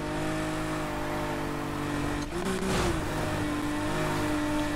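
A car engine in the racing game Need for Speed Heat revs steadily with a sustained drone, swelling briefly in pitch midway before settling back to a loud, continuous hum, with no talking.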